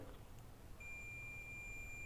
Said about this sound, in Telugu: ఇట్లా బీప్ సౌండ్ వస్తుంది వర్క్లో లేనిది అయితే.